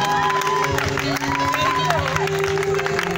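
A church congregation cheering and acclaiming, a dense, continuous crowd roar with shouts and whoops under a sustained musical tone, loud and steady throughout, with voices mixed in.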